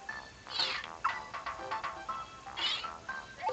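Meowth's cry in the Nintendo 64 game Pokemon Snap: a few bright, synthetic meow calls, fairly close and clear, with chiming game tones around them and no talking.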